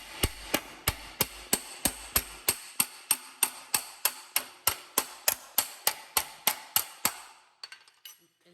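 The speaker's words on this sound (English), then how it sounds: "I just end up shrinking it, hammering it, shrinking it, hammer it, and just go from there" Steady hammer blows on aluminum sheet metal being shrunk and shaped, about twenty-two sharp metallic strikes at an even rhythm, close and clear, with a few quieter taps at the end.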